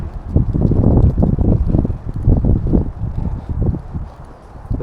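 Strong wind blowing outdoors on a windy day, loud low rumbling gusts buffeting the microphone, continuous with no talking.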